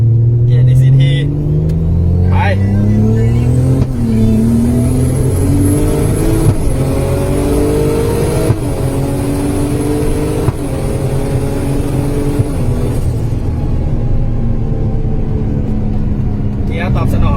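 An RX-8 fitted with a 2JZ engine and a 7-speed M3 DCT gearbox revs and accelerates loudly through rising and falling gear pulls, with a steady drone throughout and someone talking over it.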